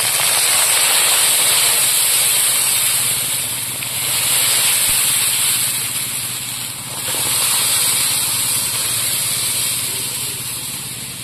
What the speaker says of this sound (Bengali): আদা বাটা, এবার ডালটা ঢেলে দেবো।